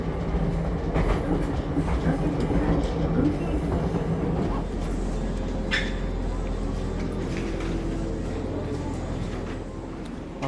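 A train in Japan's least visited prefecture rolls steadily along rails with a continuous rumble and faint clickety-clack, heard from on board, a brief squeal rising partway through.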